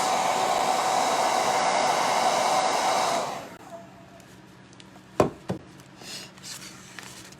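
A hair dryer blows steadily and loudly for about three seconds while drying craft paint on an up-cycled dollar store pizza pan, then cuts off, leaving a quiet room with a couple of brief knocks.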